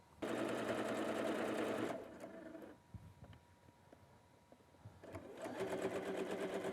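A sewing machine stitches binding onto a quilt in two bursts of rapid, steady whirring, with a quieter pause of small clicks and handling noises between them.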